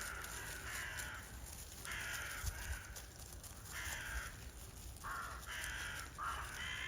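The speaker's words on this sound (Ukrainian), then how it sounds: "Ворони верещать тільки." Crows caw repeatedly in the distance, harsh calls in short bursts with pauses between, over a quiet outdoor background in a forest in winter.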